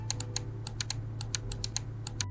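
Optical micro-switch face buttons (A, B, X, Y) on a GameSir G7 Pro gaming controller click about a dozen times in quick, uneven succession. The crisp, mouse-like clicks sit close to the mic over a steady low hum.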